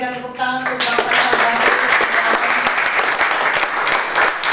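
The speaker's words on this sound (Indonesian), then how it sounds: "kita berikan tepuk tangan untuk Bang Faisal." A brief musical tone fades into loud, continuous audience applause, many hands clapping steadily for several seconds.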